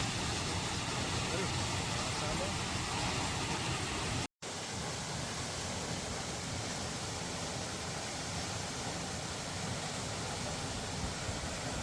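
Manpilavu waterfall roars in a constant, dense wash of rushing water, steady and enveloping, broken only by a split-second dropout partway through.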